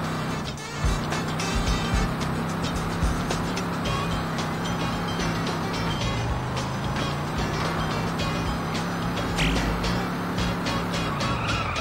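Homer's car in the video game Simpsons Road Rage drives on steadily, a constant engine hum with tire squeals and skids breaking in over busy game music and effects, loud and close throughout.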